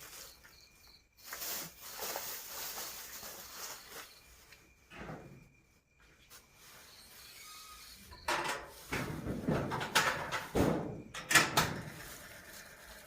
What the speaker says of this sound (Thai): ปิดประตูล็อกเรียบร้อยเข้าบ้านกันแล้ว